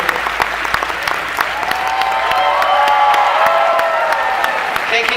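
A crowd at the Crunchyroll Expo 2018 cosplay masquerade applauds loudly and steadily, with scattered cheers and whoops building slightly and rolling on without a break.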